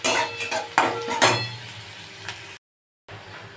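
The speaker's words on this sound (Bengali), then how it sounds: "পেঁয়াজটা একটু ভালো করে ভেজে নেব" Onions frying in a pan for a fish roe dish, with clanking metal spoon strikes and stirring scrapes over a low sizzle, loud at first and then fading, with a short silent gap near the end.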